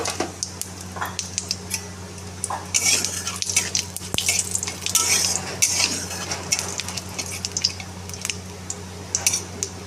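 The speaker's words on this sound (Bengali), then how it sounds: "শুকনো মশলাগুলো সব ভাজা হয়ে গেছে" Dry whole spices fry in oil in a pan and are stirred with a metal spoon, a soft continuous sizzle broken by repeated scraping clatters, close and without talk.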